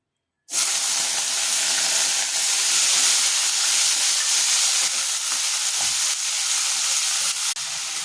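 Loud, steady sizzling of raw plantain slices frying in hot oil, a bright crackling hiss that starts abruptly and carries on without pause.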